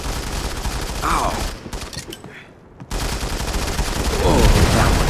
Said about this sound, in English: Stop shooting my fur.